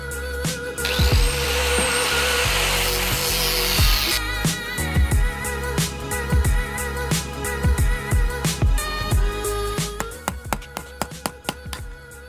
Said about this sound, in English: let's just use an angle grinder.